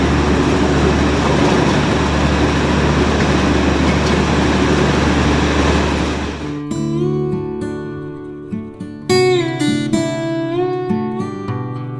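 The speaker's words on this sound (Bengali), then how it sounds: "এবার কিন্তু পুরো ফরেস্টের মধ্যে দিয়ে আমাদের ট্রেন যাচ্ছে" Darjeeling toy train running through forest on the Siliguri to Rongtong line, a loud steady rumble of wheels and carriages for about six seconds that gives way to music.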